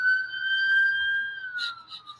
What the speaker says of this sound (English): You hear the siren in the background?